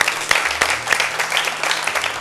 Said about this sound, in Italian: Facciamo un applauso a Jacopo.